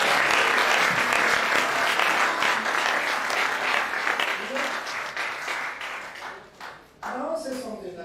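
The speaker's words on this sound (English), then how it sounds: "Clap for God." A church or cooperative gathering audience claps loudly and continuously in a hall, the dense applause fading gradually and then returning as a voice speaks over it near the end.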